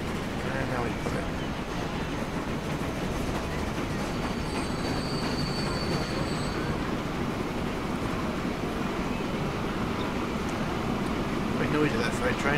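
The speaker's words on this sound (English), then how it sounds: "Very noisy, that freight train, isn't it?" A freight train rolls steadily in the Transport Fever game, a continuous loud rumble of wagons with high metallic wheel squeals rising and fading over it, a voice occasionally audible underneath.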